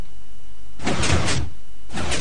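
A hidden glass door built from Minecraft redstone slides open after a button press, heard as a soft broadband whoosh that starts about a second in and runs in pulses, then a second short burst at the end.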